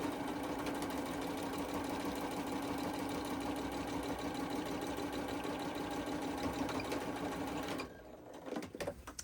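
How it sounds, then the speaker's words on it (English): A sewing machine stitches a seam on a paper pocket for a multi-pocket window tri-fold, running in a steady, loud continuous whir for most of the clip before stopping abruptly, leaving faint handling noises. "I'm going to add another seam to hold it in place"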